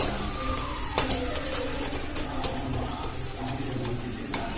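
Vegetarian Mughlai snacks frying in hot oil, a steady close sizzle and bubble with a few sharp clinks of utensils against the pan.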